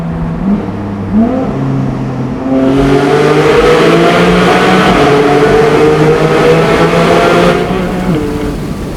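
Naturally aspirated 4.0-litre engine of a Porsche Boxster GTS revs hard after a quiet idle-like start, its rising harmonic tone climbing into a loud, sustained high-RPM howl before easing off.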